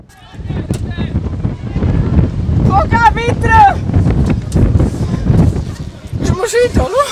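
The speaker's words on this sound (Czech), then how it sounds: "Fouká vítr!" Gusty wind buffets the microphone with a low roar while several voices shout and talk over it at an outdoor team games competition in Úvalno.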